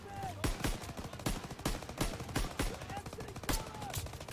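Gunfire rattles through a WWII video game battle, with sharp repeated bursts and shots cracking at irregular intervals, some heavy and close, others lighter, under a dense noisy backdrop of combat.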